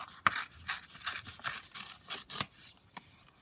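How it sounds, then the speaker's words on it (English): Patterned craft paper torn by hand across a corner piece, a run of dry ripping and scraping bursts with one sharp snap near the start, close up and fairly quiet, with no talking. "I will tear my corner piece first, I think. So if I just tear that across"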